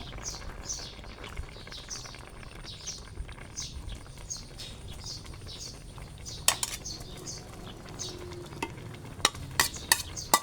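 A pot bubbles and crackles softly with irregular pops, while birds chirp faintly in the background.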